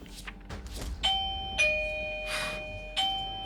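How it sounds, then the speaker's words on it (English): A doorbell chimes repeatedly, bright ringing tones sounding four times in quick succession, close and clear. "So much doorbell ringing."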